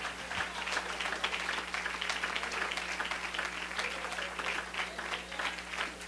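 Church congregation clapping in praise during a worship service, a dense, even wash of applause held throughout over a low steady hum.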